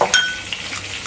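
Mustard seeds are tipped into hot oil for Kerala cucumber pulissery. A metal spoon clinks first, then a short crackle and sizzle follow, close and fairly loud.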